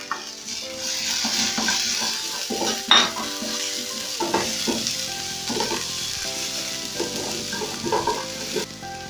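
Dhania stems sizzling and frying in a pan while being stirred, steady crackle with intermittent scraping and clinking strokes of the utensil, close and fairly quiet, no talking.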